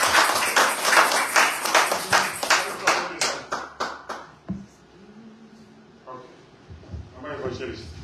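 A prayer-retreat congregation in Germany clapping in rhythm, with steady, evenly spaced claps that fade after a few seconds into quieter talk and a few scattered claps.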